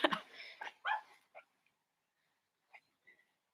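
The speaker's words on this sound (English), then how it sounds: "I can hear him barking" A dog behind a shut door gives a few muffled barks and yips, faint and distant, in short bursts separated by quiet pauses.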